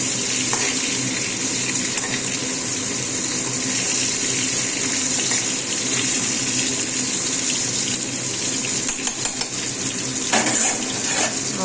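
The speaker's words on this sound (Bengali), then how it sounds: "এই আমার মাছগুলো ভালো করে ধুয়ে নিই।" Rohu fish are washed by hand under running tap water in a kitchen. The water splashes and rushes steadily and loudly, with occasional clinks of a metal pot, and no speech.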